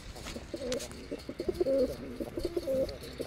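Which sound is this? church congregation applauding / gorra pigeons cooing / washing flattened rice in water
gorra pigeons cooing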